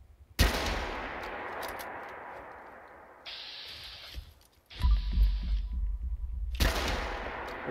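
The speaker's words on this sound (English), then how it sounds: "God, it's so sick shooting the rifle." Lever-action rifle shots in Fallout 4 VR: two heavy, close blasts with long roaring tails, separated by a few seconds, with mechanical handling noise between them.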